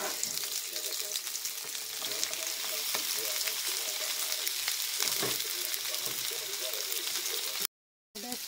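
Eggplant frying in a pan with onion and garlic, a steady sizzle with bursts of crackle and stirring, fairly close, while someone talks over it; the sound cuts out briefly near the end.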